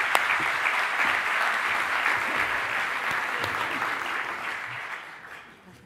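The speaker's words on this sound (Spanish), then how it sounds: "Vamos a dar un aplauso para ella." Audience applause at a NAUKAS 2017 science talk in Madrid, a dense steady wash of many hands clapping from the crowd that holds for several seconds and then fades near the end.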